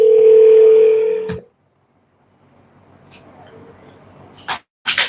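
A telephone line tone sounds steadily for over a second and then cuts off, leaving near silence with faint line noise and a few short clicks and beeps as a call is placed to a caller on a radio show.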